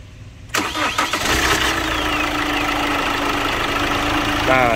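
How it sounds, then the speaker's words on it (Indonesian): A Chevrolet Captiva engine cranks briefly, catches and settles into a steady, loud idle close by after a short quiet start, with no talk over it. "Nah, sekarang kita starter mobilnya."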